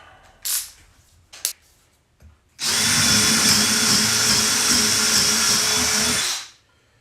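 A power drill fitted with a DeWalt or Spyder bit bores through a workpiece on a shop bench in one loud, continuous whine lasting about four seconds, after a few sharp clicks and knocks.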